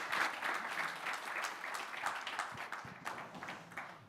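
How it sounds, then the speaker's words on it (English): Audience applause for a panel at a leadership stage session, a brisk crowd clapping at moderate distance that stays full for a few seconds before thinning out. "Please give a warm round of applause for the panel"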